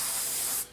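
Aerosol primer sprays in one steady, close hiss onto a Deathwing miniature model, holding for most of the moment before cutting off sharply.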